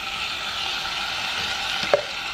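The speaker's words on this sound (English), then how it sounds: "For now, I'm adding my minced garlic." Minced garlic sizzles in butter in a pan, with a steady close frying hiss and one brief clink near the end.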